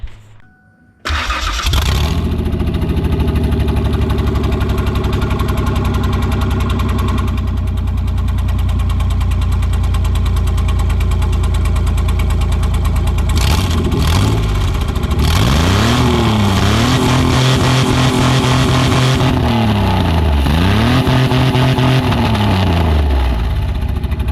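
A loud Ford Explorer engine with the exhaust removed starts, then idles roughly and revs up and down repeatedly, raw and unmuffled, close by.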